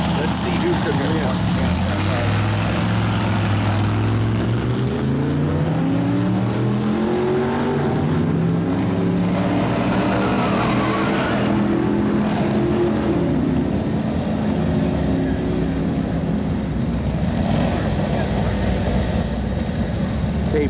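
A 1942 Harley-Davidson WLA 45ci flathead stroker and a Cushman race at an antique drag meet, loud engines roaring and climbing in pitch through repeated gear changes, a continuous close, powerful drone that fills the whole stretch.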